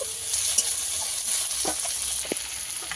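Tomato and potato frying together in a pan for a pakal fish dish, giving a steady close sizzle with a few soft scraping stirs, no voices.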